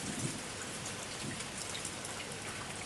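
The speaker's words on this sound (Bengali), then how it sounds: "হঠাৎ প্রবল বৃষ্টি শুরু হয়।" Heavy rain pours down in a constant, even hiss of dense raindrops, heard alone with no other sounds.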